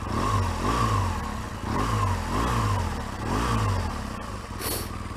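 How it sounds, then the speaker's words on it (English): A 2013 BMW R1200GS motorcycle engine revs in repeated surges, its rough, rattling mechanical clatter loud and close, dipping briefly between each burst. "As you can hear, it seems to rattle like a good one. It's quite noisy engine."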